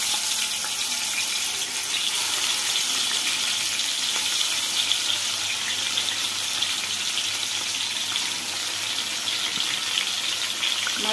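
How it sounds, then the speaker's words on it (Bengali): Fish pieces fry in hot oil for a Bengali macher korma, producing a loud, steady, close sizzle and crackle that holds unbroken throughout, with no talking. "এবার ওই তেলেতে আমি মাছগুলোকে ভেজে নেব।"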